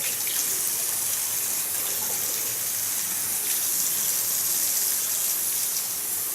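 Running water rinses hair dye out of a client's hair at a salon after foil highlights, a steady close gushing hiss that continues evenly the whole time with no talking.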